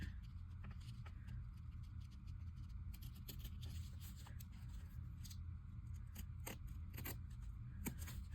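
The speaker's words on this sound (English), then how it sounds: "now I want to cut it right at the edge so I can still flip it" Scissors snip paper for a collage in a string of quiet, close crisp cuts, irregular and clustered, over a low steady background rumble with no talk.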